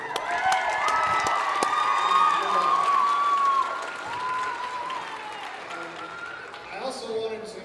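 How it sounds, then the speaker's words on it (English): A crowd in a high school gym before a varsity boys basketball game against Milford cheers, whistles and applauds loudly, then settles to a lower murmur of clapping and shouts. "so let's give them a good cheer."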